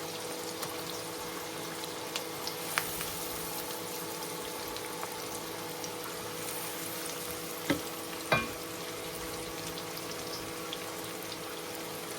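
Dried fish mash fries with onions in oil in a wok, giving a steady, quiet sizzle throughout, with a couple of brief knocks from a spoon against the pan, no voices.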